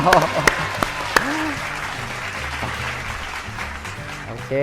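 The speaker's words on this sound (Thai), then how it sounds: "สามสองหนึ่งปรบมือให้ตัวเอง" A few people clapping for themselves after a low-impact beginner exercise session, with sparse distinct claps at first, under talking and background music.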